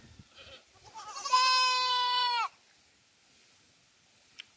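A goat lets out a single loud, drawn-out bleat lasting about a second inside a goat house, followed by quiet with faint background noise.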